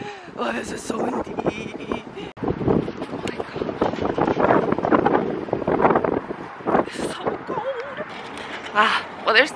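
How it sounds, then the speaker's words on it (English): Gusty wind buffets the microphone throughout, roaring and rumbling beneath a person talking almost continuously. "Wow, so windy today! Oh, this is so windy."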